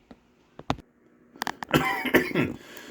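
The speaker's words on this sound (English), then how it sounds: "Sorry, a bit of a coughing thing going on." A person coughs several times up close, with short throat-clearing bursts building into a rougher, louder fit of coughing.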